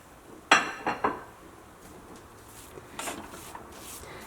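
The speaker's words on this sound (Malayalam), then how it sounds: "ഈ റവയും ഇതിനകത്ത് നന്നായിട്ട് മിക്സ് ആവണം" A spoon scrapes and clinks against a pan while semolina is stirred into a green gram laddu mixture, with three sharp knocks near the start followed by softer rubbing and scraping close by.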